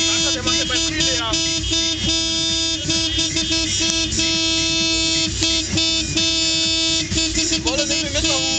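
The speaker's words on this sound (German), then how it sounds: "Die Hupe ist so laut!" Car horns at an Opel club gathering blare in long, loud, sustained honks with short breaks, continuing over people's shouting and chatter at the evening meet.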